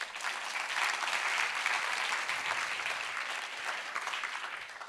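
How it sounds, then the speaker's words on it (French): A school audience at a day of talks breaks into steady, dense applause that carries on evenly at moderate distance with no pauses. "Et on l'applaudit."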